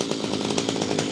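A gas-powered Echo string trimmer engine running after fuel-flow adjustment, a steady close buzzing drone with rapid pulsing throughout, loud and alone with no voices.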